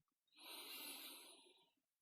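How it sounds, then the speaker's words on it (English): One slow, calm breath during guided meditation, a soft airy whoosh that swells and fades over about a second and a half, close and quiet, with no talking. "we'll just continue this calm breathing to feel more and more present"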